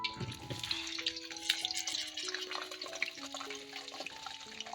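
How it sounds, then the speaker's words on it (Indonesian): Eggplant pieces fry in hot cooking oil as a soft, crackly sizzle under quiet background music with sustained tones. "Jadi aku goreng dulu goreng dulu si terongnya ya."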